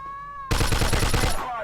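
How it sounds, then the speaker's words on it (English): Dense, loud gunfire from the Mafia II video game, a rapid volley of overlapping shots lasting about a second after a brief tonal lead-in, close and harsh. "Where are they shooting me from?"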